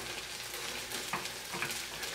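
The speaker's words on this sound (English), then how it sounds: "you can see how the egg is cooking on the edges" A vegetable cheese egg omelet cooks in a hot pan with a steady, close sizzle and a couple of faint scraping touches, no voices.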